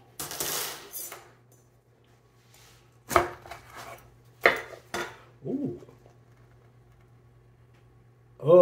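A knife chopping through a calzone on a board: a few sharp, separate chops with short gaps between them, close and crisp, then a quiet clatter near the end.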